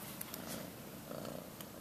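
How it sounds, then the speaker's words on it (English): A foster kitten purrs softly and continuously up close, a low quiet rumble with faint rhythmic pulses and a few small clicks, with no talking over it. "You hear him purring?"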